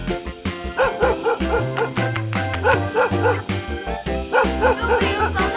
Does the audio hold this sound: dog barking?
yes